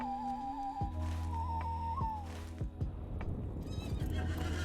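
A video game horse gives a drawn-out whinny as the rider mounts, followed by hoof clops and further snorting over a low steady game background.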